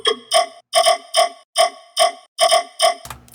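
Riddim dubstep synth run through a vocoder and Serum effects plays a choppy pattern of about nine short stabs, loud and alone, with a noisy burst at the end.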